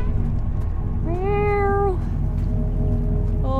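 A kitten in the video game Shelter 2 gives a single drawn-out mew of about a second, then a short one at the end, over a steady low droning background with no talk.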